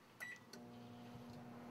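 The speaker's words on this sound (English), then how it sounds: "Microwave for 1 minute." A microwave oven runs with a steady low hum and a faint tonal drone, heating spaghetti in a dorm kitchen, after a couple of short clicks and a brief beep at the start.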